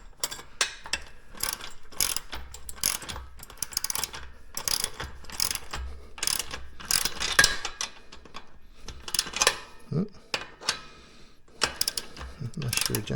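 Ratchet wrench cranking down bolts during assembly of a home gym, a run of quick clicking bursts in repeated spurts with short pauses, fairly close, alongside some handling clatter.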